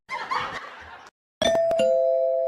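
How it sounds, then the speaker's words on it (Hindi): A doorbell chimes in a bright two-tone ding-dong after a short burst of chuckling, the ring loud and close and lingering to the end. "ई साला अलग घंटी में घंटी बजाया जा रहा है"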